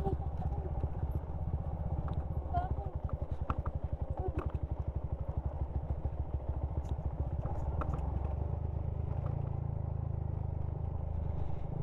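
A motorcycle engine runs steadily throughout, with rattling and clattering over a bumpy, sandy and rocky road and scattered crackles, near Burgos, Pangasinan.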